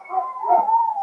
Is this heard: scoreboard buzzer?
no